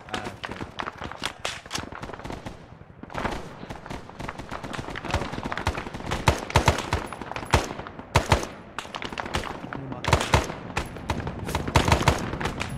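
Arma 3 Vietnam gameplay brings dense, continuous gunfire, rapid automatic bursts and overlapping shots, loud and close throughout with no pauses.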